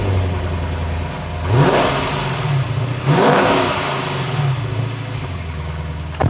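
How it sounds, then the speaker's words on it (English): A Lexus IS 500 V8 breathes through its quad exhaust in two strong revs that swell and fall back to a steady rumbling idle, loud and close with no talking. "And of course, it's got that V8 sound."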